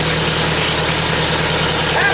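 International Harvester IHC 300 Utility tractor engine running at a steady idle, a loud continuous low rumble with an even throb throughout, close by.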